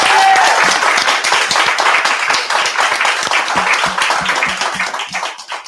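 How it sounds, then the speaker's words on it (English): An audience at a tech industry panel discussion applauds, dense clapping from many people that holds steady and then thins out toward the end. "Can I have a round of applause"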